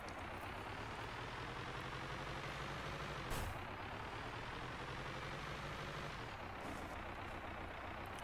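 Heavy truck driving in the Contractville game, a low droning engine rumble held steady throughout, with a short hiss like an air brake partway through.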